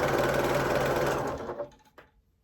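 A sewing machine runs steadily, stitching layered fabric strips for a jelly roll rug, a close rapid mechanical chatter that slows and stops after about a second and a half, followed by a faint click.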